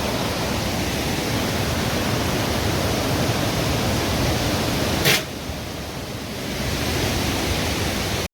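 A small mountain stream in a Himalayan valley near the Urvashi river rushes with a steady, broad wash of flowing water, close and continuous, with a brief sharp knock midway.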